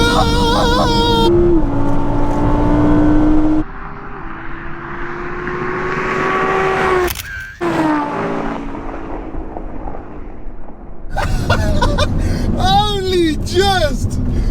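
A remapped family car races past at a drag strip, its engine note rising and swelling as it approaches, then a sharp whoosh as it passes close, with excited voices shouting before and after.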